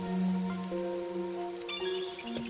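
Rain falls over a city in the video game Rain Code, a steady soft patter beneath sustained tonal music, fairly quiet and continuous, with no voices.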